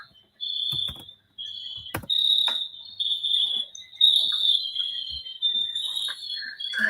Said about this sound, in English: Fucking crickets.